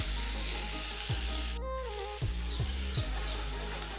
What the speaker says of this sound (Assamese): এতিয়া মই ইয়াত আধা কাপমান পানী দিম আৰু এইখিনি ঢাকি উতলিবলৈ দিম